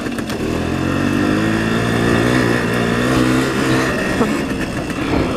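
A 1975 Suzuki RV-90 fat-wheel dirt bike engine runs steadily up close, a loud, continuous two-stroke drone with a slight rise in revs and no break throughout.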